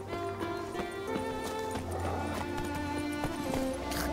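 A horse gallops in the video game The Witcher 3, its rhythmic hoofbeats clip-clopping steadily at close range over game ambience, with no voices heard.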